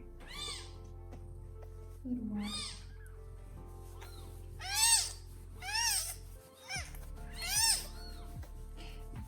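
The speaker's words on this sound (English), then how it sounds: "Kittens will cry a lot. That's normal." Newborn kittens cry with a run of high, thin, rising-and-falling mews, several in a row and close by, while a person murmurs a few soft words during feeding and cleaning.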